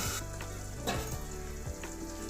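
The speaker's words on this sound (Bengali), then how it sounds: "ঢাকা দিয়ে দিয়ে ভাজবো ঢাকা দিলে তাড়াতাড়ি আলু আলুটা নরম হয়ে যাবে" Potatoes fry in oil in a covered pan, giving a constant close sizzle with occasional sharper crackles and pops, with no one speaking.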